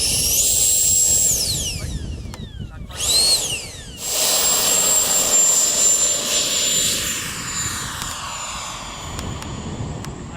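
3D printed model Harrier STOL jet with nozzles angled down, its small turbine spinning up with rising and falling whines, then settling into a loud, sustained, close high-pitched roar.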